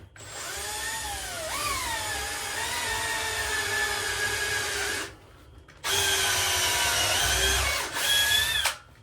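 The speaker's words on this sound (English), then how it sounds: "I'm just gonna drill another hole through it." A power drill bores a hole through a wooden armchair frame, a loud close whining motor running steadily for about five seconds, stopping briefly, then revving again with pitch dips under load.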